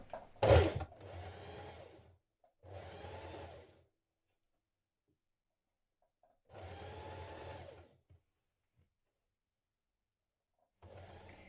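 A sewing machine top stitching around the neckline of an artist's smock, running in several separate bursts of steady whirring with quiet pauses between them and a sharp click at the start.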